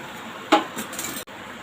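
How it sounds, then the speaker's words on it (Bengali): A metal lid lifted off a cooking pot on the stove: one sharp clink with a brief metallic ring, followed by soft kitchen clatter and a faint background hiss. "আমি ঢাকনাটা খুলে দেখছি"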